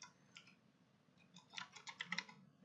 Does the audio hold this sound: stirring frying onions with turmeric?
no